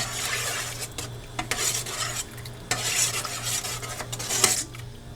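A spatula scrapes and stirs pork ribs in a pan in a Sun Oven, with intermittent clinks against the metal, over a low steady hum and faint sizzling.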